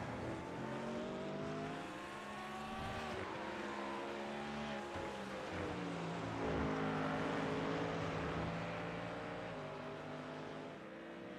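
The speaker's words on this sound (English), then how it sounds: "This is a Ford Mustang who's trying to put it to a Porsche 911" GT3 race cars, including a Ford Mustang and Porsche 911s, circle Shell V Power Motorsport Park in a sim racing game, with engines rising and falling through gear shifts and several cars droning together at moderate distance.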